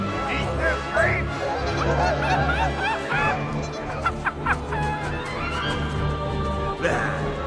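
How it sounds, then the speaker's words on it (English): Geese honk repeatedly in a lively film scene with flying geese, nasal calls layered over a busy soundtrack with chuckling and voices mixed in. "The geese!"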